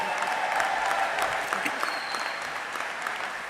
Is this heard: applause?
yes